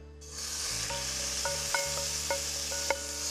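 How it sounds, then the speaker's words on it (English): Chicken pieces hit hot oil in a frying pan and sizzle steadily and fairly loudly, with a few light scrapes and clinks of utensils over the hiss. "And then we'll add the chicken straight into the pan so we get nice sizzle."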